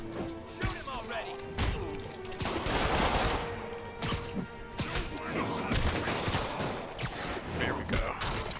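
Gunfire in the video game Marvel's Spider-Man: rapid, overlapping shots and bursts crack out with thuds and crashes in a dense, continuous combat din, with voices mixed in.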